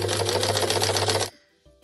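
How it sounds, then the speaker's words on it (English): A sewing machine stitching a tote bag, a rapid rhythmic mechanical whir over a low motor hum for over a second, then stopping abruptly, followed by faint handling sounds. "let's just sew to about a centimetre away from the bottom"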